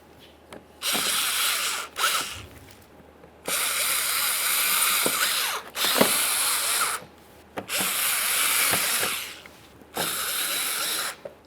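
Power tool runs bolts on a Ford Fusion bumper cover, working 7mm hardware in bursts: several whirring drives of a second or two each, separated by short clicks, close and fairly loud.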